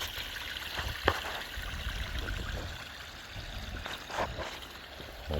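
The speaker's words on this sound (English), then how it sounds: "I was just connecting with the hose water now, and it's just cycling right there" Water from a garden hose runs into a backyard pond, a steady trickling and splashing stream with a few louder gurgles and drips, continuous and close, with no voices.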